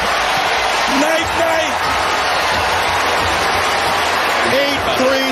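A French basketball arena crowd roars loudly and without a break after a Stephen Curry three-pointer, a dense wall of cheering with a few voices talking briefly through it.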